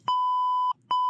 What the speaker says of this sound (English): I need the beep sound, beeping at God